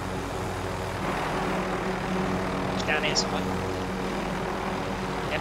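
A video game helicopter's engine drones steadily throughout, with players talking over it.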